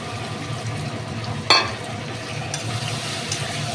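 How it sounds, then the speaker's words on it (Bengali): Fried prawns drop into sizzling masala in a pan for alu chingri kosha, a sharp splash-like hiss followed by continuous frying sizzle and light stirring scrapes. "ভেজে রাখা চিংড়ি মাছগুলো দিয়ে দিচ্ছি"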